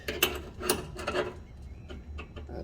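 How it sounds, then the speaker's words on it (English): An adjustable wrench snugs a fitting on a 2012 Nissan Sentra during an at-home wheel alignment after a front end rebuild, giving a few faint, close metallic clicks and rattles in a quiet space. "I gotta get this nice snug, so I got an adjustable wrench"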